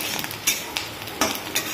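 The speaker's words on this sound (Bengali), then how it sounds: "ডিম ভাজা, মাছের ডিম এটা।" Fish roe fries in hot oil in a pan, giving a steady sizzling hiss broken by a few sharp scrapes and taps of a spatula or spoon, close and without talk.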